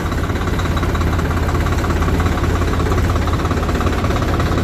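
A Swaraj tractor engine runs steadily in a continuous low, heavy drone, loud and close, with no pauses or voices.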